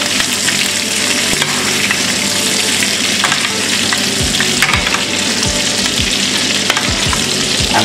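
Salmon sautés in a hot pan with a loud, constant frying sizzle close by, broken by several stirring and scraping knocks toward the end.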